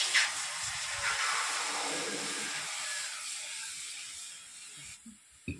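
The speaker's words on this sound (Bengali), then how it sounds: "জলটা গরম হয়ে যাচ্ছে দেখুন।" Water heats in a kadai over a lit clay stove, a loud hissing rush at the start that slowly thins and fades, ending with a soft clunk.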